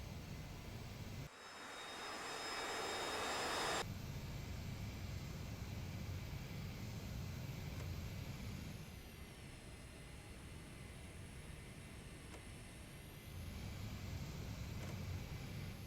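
Steady jet engine roar from an AJS37 Viggen taxiing in a flight simulator game, continuous and fairly loud with a high whine, swelling briefly near the start then holding at a level rumble.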